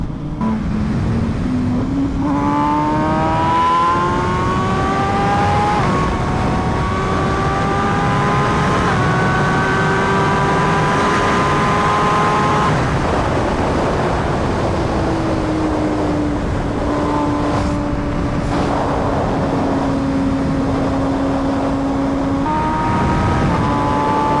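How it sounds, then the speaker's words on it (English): An MV Brutale 1000RR motorcycle engine pulls under throttle while riding, a loud sustained drone rising and falling in pitch as it accelerates through gears, with steady wind rush behind it. "when you completely let off the throttle and get back on it, it's really smooth"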